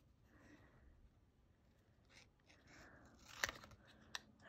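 Small scissors snip around a stamped paper gnome, trimming the excess in a few quiet, scattered cuts, faint and close, with a sharper snip near the end.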